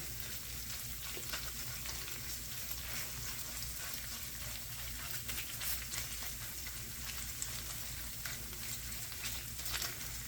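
Food frying in a pan and being mashed and broken up, a steady close sizzle and crackle with faint stirring scrapes, continuous and fairly quiet with no talking.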